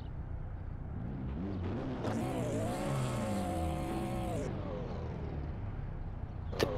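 A big BMW with classic DMF livery drifting at the Drift Corner Grand Prix in Villars-sur-Ollon, its engine droning and rising in pitch through a held slide, fairly faint under a commentator's talk, with a brief sharp noise at the end.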